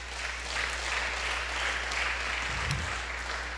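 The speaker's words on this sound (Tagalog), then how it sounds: "Palakpak." A church congregation at an Ilonggo service clapping together, a steady even wash of applause throughout, moderately loud with a low hum beneath.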